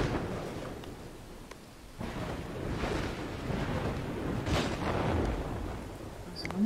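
Rumbling thunderstorm in the prehistoric survival game Dawn of Man, a steady wash of rain and low rolling thunder with a few louder swells, no speech over it.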